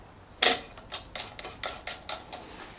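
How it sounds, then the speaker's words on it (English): A nut and lock washer fitted onto a rear indicator of a Triumph Bonneville T100, heard as a sharp metallic clack followed by a run of quick light clicks, close by, without talk. "then the lock washer and nut can go on there"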